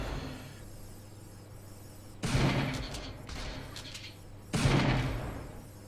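Gunfire from robots battling in the game Gladiabots: two sharp, loud blasts a couple of seconds apart, each trailing off into a noisy decay over a low steady hum.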